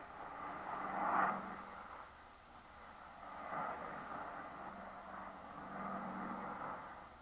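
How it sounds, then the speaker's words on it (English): Four piston engines of a Douglas DC-6 airliner drone steadily in flight, a broad, fairly distant hum that swells and eases in slow waves without any talk over it. "the 4 big engines will cruise the DC-6 at better than 300 miles per hour"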